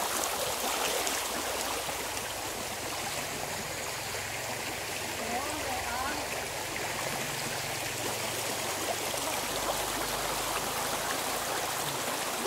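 Natural spring water flows steadily in an outdoor spot in Samar, a continuous broadband rush like a stream or small cascade, fairly close and even throughout, with faint voices now and then beneath it.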